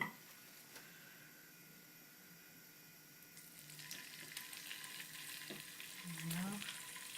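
Small squid frying in a very hot pan with chopped tomato in concentrated juice, a soft hiss that grows louder and denser midway, with light stirring clicks and a brief murmured voice near the end.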